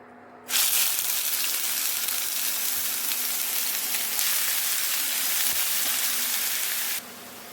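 Onion paste drops into hot oil seasoned with a sugar tempering for yogurt rohu fish curry, erupting into a loud, steady, close sizzle that holds evenly for several seconds before suddenly easing off.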